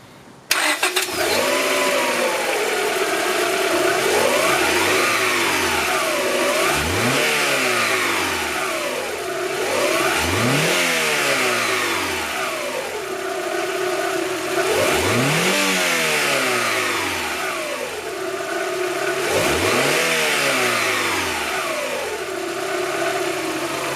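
A car with a new air intake fires up and is revved repeatedly, four or five loud rising-and-falling throttle blips over a steady idle, close to the listener.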